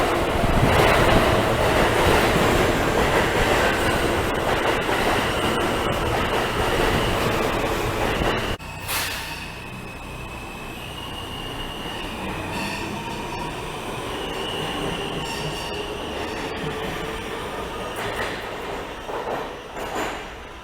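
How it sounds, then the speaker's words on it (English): A Manhattan-bound E subway train rounds a curve into Jamaica-Van Wyck station in New York, with a loud rumbling roar, a sharp squeal of wheels and rhythmic clacking as it slows, heard alone without talk. "Manhattan-bound E-train is coming around the curve here and is pulling into the station"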